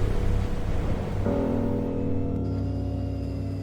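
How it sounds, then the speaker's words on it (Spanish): A man tumbles from an overturned boat into lagoon water in a horror series, with a rough splash and churning waves over a deep rumble and a steady low drone. No one speaks. "Edwin cae al agua."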